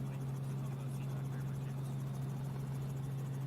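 A helicopter flies over mountains in a video game, giving a steady low rotor drone that holds constant and fairly loud for the whole stretch, with no speech over it.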